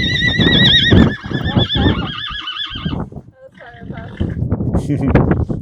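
Horses neigh loudly and repeatedly in long shaky whinnies, with hooves clip-clopping nearby and people talking over the sounds.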